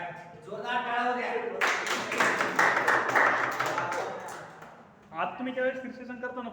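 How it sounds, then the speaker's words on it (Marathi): An audience at a police recruitment coaching class claps loudly together in a dense burst lasting a few seconds, between stretches of someone speaking. "आता बघा एक मिनिट आहे जोरदार टाळ्या द्या"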